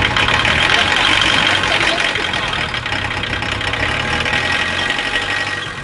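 A UAZ 469 off-road vehicle's engine runs steadily and loudly up close after standing unused for a long time, a constant broadband drone with no breaks, while people talk over it.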